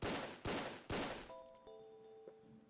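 Three loud, close gunshots blast in quick succession while shooting targets in the blocky online shooter game Brick-Force, followed by ringing tonal game sounds and faint clicks.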